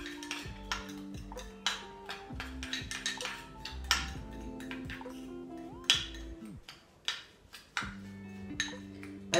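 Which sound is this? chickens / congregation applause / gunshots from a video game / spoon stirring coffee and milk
spoon stirring coffee and milk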